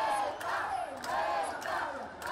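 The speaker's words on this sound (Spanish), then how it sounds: "los aplausos del público" A large crowd at the flower festival in Medellín, Colombia roars and cheers continuously, loud and dense, with swelling shouts and no single voice standing out.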